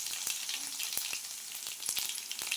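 Mustard seeds and curry leaves sizzle in hot oil, a steady bright crackle with sharp pops scattered throughout, close and fairly loud with no talking.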